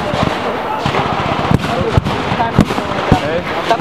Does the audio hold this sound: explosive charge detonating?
yes